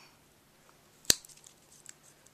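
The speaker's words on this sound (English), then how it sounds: "I just use the Cutter Bee scissors" Cutter Bee scissors give one sharp, crisp snip while trimming unmounted rubber stamps, close and isolated, followed by a few faint small clicks in an otherwise quiet room.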